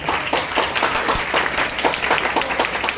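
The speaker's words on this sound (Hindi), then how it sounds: "आप जोरदार तालियां हो जाए इस परफॉर्मेंस के लिए" A college annual function audience claps for a drama performance, a loud, close burst of brisk, uneven clapping with distinct individual hand strikes throughout.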